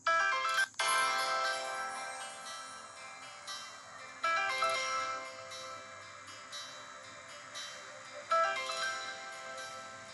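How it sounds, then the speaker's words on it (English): A lost phone playing its find-my-device alarm: a loud, bright electronic ringtone repeating in cycles of about four seconds, continuous and alone. "When you play sound, it will make an alarm and you'll be able to find it."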